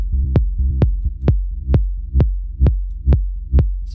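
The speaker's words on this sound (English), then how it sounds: "So you see here comes the kick." Techno kick drum and bass: a steady four-on-the-floor kick thumps about twice a second, with the bass pumping and ducking in the low end after each hit while its upper harmonics stay present.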